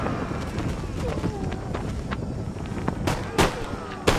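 A musket volley in Empire: Total War crashes out as several loud cracks near the end, following shouted orders over ambient battle noise and wind.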